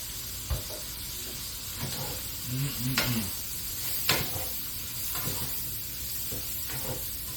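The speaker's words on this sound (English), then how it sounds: "Give that a good stir" Green bean casserole in a pot being stirred after Cajun steak seasoning goes in: soft sizzling and hiss with scattered scrapes and clinks of a utensil against the pot, plus a short mid-clip burble.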